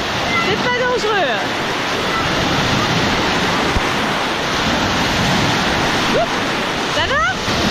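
Waves in a wave pool at the water park Parc Aquatique La Baie des Pirates, a loud, continuous wash of splashing surf with occasional high voices and shouts in the background.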